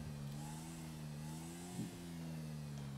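A motorcycle engine in the video game GTA hums with a steady mid-pitched drone, rising slightly in a brief rev near the end before settling back, fairly quiet and with no voices.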